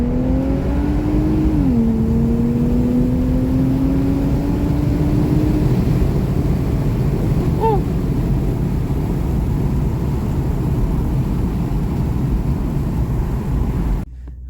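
Infiniti Q60 engine fitted with AMS air intakes, revving up in a rising tone near 2 seconds, then holding a loud steady drone with dense broadband intake roar throughout, cutting off abruptly near the end; no talking.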